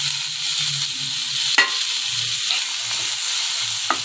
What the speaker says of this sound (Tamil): இதெல்லாம் சேர்த்து நல்லா வதக்குவோம்